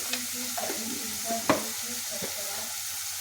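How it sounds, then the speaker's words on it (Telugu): Spoon stirring chili, coriander and cumin powder into a paneer masala curry in a pan, with several scraping strokes and a sharper clack near the middle over a low steady sizzle, close and fairly quiet with no voices. "జీలకర్ర పొడి వేసుకొని బాగా కలుపుకోవాలండి."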